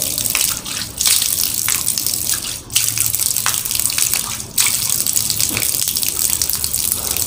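Water gushes steadily from a tap during ablution, a loud, continuous close stream splashing into a basin, with brief dips as hands move under the flow.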